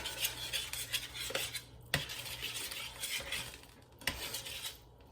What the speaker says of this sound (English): So we are going to give this a little bit of a stir